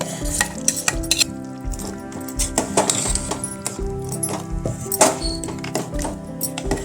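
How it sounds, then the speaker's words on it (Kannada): A spoon stirs masala into chicken sambar in a pot, giving repeated close scrapes and clinks against the metal in an uneven rhythm, with no voice over the stirring. "ಇದು ಚೆನ್ನಾಗಿ ಮಿಕ್ಸ್ ಮಾಡಬೇಕು."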